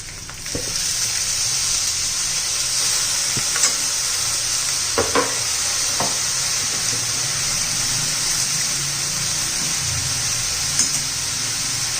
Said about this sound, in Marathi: स्वयंपाक झालेला आहे आता त्याच्यात मेथी घालून घेते मी